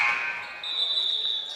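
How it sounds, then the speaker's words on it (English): A basketball game buzzer at a championship tournament night sounds as a sustained electronic tone with a loud start that then settles into a steady high tone, heard over arena crowd noise. "the buzzer was a little late there"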